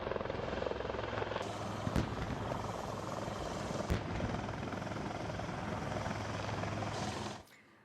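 An Indian Army Dhruv helicopter flies close by, its steady rotor and turbine roar filling the whole stretch with a couple of sharp thumps before it cuts off abruptly near the end.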